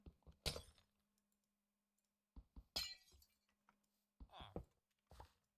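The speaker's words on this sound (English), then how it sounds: "Let's just take out these glass panes." Glass panes breaking in the Minecraft game, three separate bursts of crisp shattering clinks spaced a couple of seconds apart, near and fairly loud, with small clicks between and no talking.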